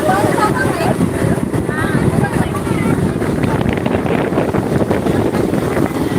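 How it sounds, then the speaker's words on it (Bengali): A passenger launch's engine drones steadily on a river in the Sundarbans, a loud continuous rumble mixed with water rush and wind buffeting the microphone, while a voice talks over it. "আমাদের দুটা লঞ্চ একসঙ্গে যাচ্ছে ওটা আর এটা"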